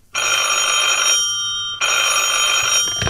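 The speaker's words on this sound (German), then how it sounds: "klingelt das Telefon" A loud electronic telephone bell rings in two bursts separated by a short pause, close by and alone.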